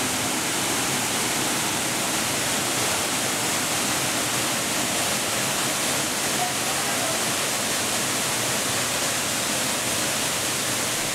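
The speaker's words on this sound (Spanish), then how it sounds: "escucho el chorro de agua" A steady, loud rush of falling water fills the scene, a constant broadband roar of a waterfall or strong stream.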